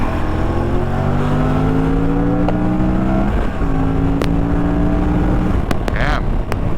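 An Aprilia RS457 motorcycle engine winds up through the gears, its rising whine loud and close, with steady wind and road rumble beneath and a few brief clicks.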